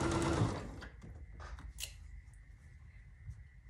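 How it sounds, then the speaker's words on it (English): A sewing machine stitches quilt star patches, its motor and needle running in a steady close whir with a louder burst at the start, then softer continuous stitching with small mechanical clicks. "I'm going to record me stitching a couple"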